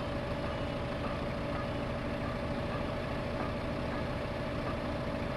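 A tractor engine in Farming Simulator 15 laboring up a hill, a steady low droning hum with a constant mid tone, moderately quiet and unchanging, with no voices.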